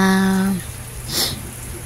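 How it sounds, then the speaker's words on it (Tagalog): Rain falls as a soft, steady hiss that carries on after a brief voice at the start, with a slightly louder rush of drops partway through. "Umuulan."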